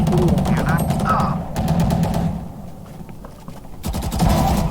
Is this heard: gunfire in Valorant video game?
yes